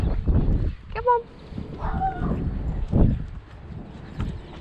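Several dogs bark along a fence beside a walking path, the barks faint and scattered over rustling and footsteps.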